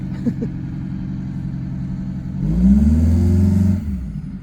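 Bus engine idling low, then revved hard at full throttle into a rising, droning roar that holds for over a second before dropping back, close and loud.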